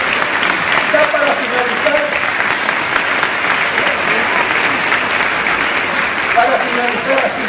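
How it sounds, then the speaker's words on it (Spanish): Sustained applause from an indoor audience at a talk on emotional communication, steady dense clapping lasting throughout without pause, with faint voices mixed underneath. "yo les iba a pedir un aplauso para ustedes por haber venido y por la buena onda"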